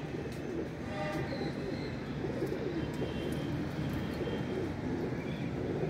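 Pigeons cooing softly among a kept flock, low repeated coos rising and falling over a steady background hum, with faint bird calls mixed in and no one speaking.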